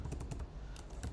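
Computer keyboard being typed on to enter a folder name, a short quick burst of close, crisp key clicks.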